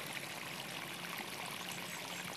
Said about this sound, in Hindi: ये देखिए पानी यहाँ पर चल रहा है